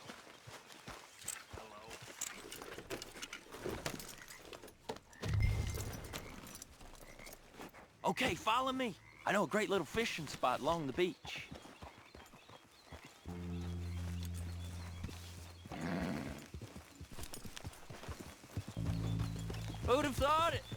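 Horse hooves clip-clop at a steady walking rhythm in Red Dead Redemption 2, close and continuous beneath a voice talking and game music that rises and falls.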